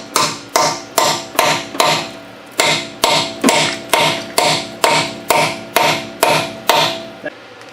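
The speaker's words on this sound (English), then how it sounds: "so we're just going to pound it on." A hammer pounds a tight 19 mm 12-point socket onto a car part in about fifteen steady, loud, close metallic blows, evenly spaced with slight ringing after each.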